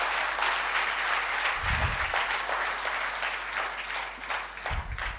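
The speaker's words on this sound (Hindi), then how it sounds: "ताली बजानी है तो जोरदार बजाओ" An audience at a motivational training session claps loudly and continuously, dense applause filling the whole stretch without pause.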